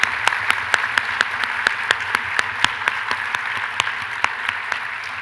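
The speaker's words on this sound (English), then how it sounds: "it's very important that we give a huge round of applause for our Apra Talks participants" Applause from a conference audience at a morning session in Phoenix, a steady wash of clapping with a few louder individual claps standing out, moderately loud and continuous with no one speaking.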